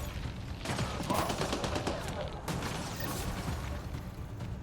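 Gunfire in the video game Mass Effect Andromeda, a dense, continuous rattle of rapid shots with mechanical clatter, steady and fairly loud throughout.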